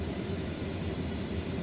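An Embraer E-175 auxiliary power unit runs in Microsoft Flight Simulator 2024, a steady, dense turbine roar with a low rumble, constant in level and without talk.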